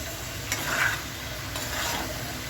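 Chopped bottle gourd is stirred and sautéed with spices in a pan, giving a steady close sizzle with a few soft scraping strokes.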